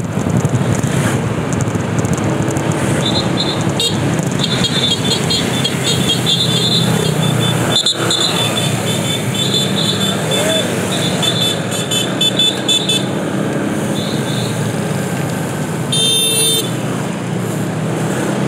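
Road traffic at Pandak field: cars and motorcycles pass close by in a loud, continuous stream, with short horn toots now and then.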